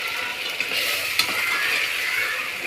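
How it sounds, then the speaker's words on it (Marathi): Onion frying with ginger garlic paste for chicken biryani, stirred continuously: an even, moderate sizzle with soft scraping strokes and a couple of light clinks of the spoon against the pan. "कांद्याचा कलर अद्रक लसूण पेस्ट टाकल्यावर कंटिन्यू हलवायचं"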